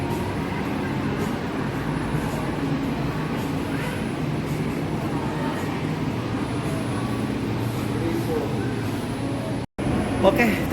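Interior rumble of an LRT Jakarta light rail train in motion, a steady low running hum and rail noise throughout, briefly cut out near the end before resuming.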